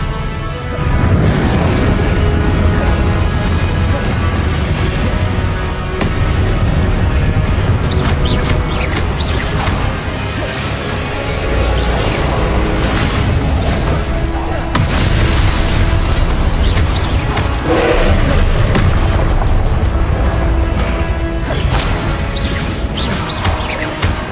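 Confringo and Expelliarmus spell blasts in the Hogwarts Legacy game, a dense and loud wash of crashes, bursts and booms that continues without a break under the game's soundscape.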